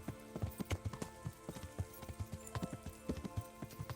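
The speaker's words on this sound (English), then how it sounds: "I needed to hold the stick forward to make horse go zoomy" A horse's hooves galloping in the video game Kingdom Come Deliverance: rapid, rhythmic clip-clop beats, close and distinct, continuing steadily over a faint background.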